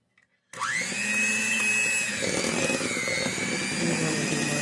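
An electric mixer starts up suddenly and whirs steadily while mixing ingredients, its motor pitch rising then holding a loud, continuous hum with slight shifts as the batter thickens.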